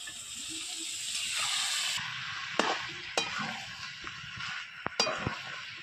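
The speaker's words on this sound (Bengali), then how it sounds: "এইবার আমি মটরটা আর আলুটা দিয়ে দেবো" Peas and potatoes are stirred into chicken curry in a wok, a close sizzle and hiss under scraping strokes, with several sharp spatula clanks toward the end.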